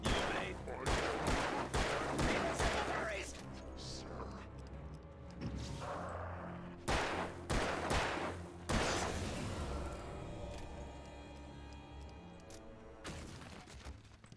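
Gunfire in the video game Alan Wake comes in rapid, loud clusters of shots, then falls to quieter rumbling gaps before another volley breaks out.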